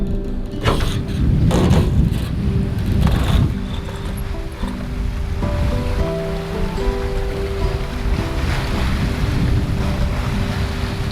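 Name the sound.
sailboat sailing in light wind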